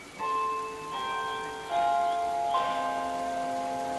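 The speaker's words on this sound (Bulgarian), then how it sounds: "Бият камбаните на Биг Бен." Recorded Big Ben chimes at the Mini-Europe model park in Brussels ring out as a soft, distant sequence of four bell tones, each lingering into the next over a quiet outdoor hum.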